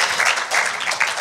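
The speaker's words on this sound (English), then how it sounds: "Come on, give a hand clap." Brief burst of hand clapping from a small church group, lively and fairly close, with a few uneven surges over just over a second.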